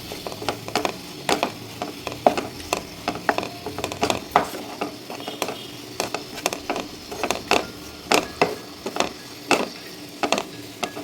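Cooked millet stirred in a cooking pan, with a steady run of sharp spoon scrapes and clinks over faint sizzling, close and rhythmic.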